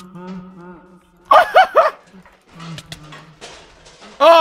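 A dog barks in the video game Minecraft, several loud, close bursts of barking and yelping with a low whining tone between them.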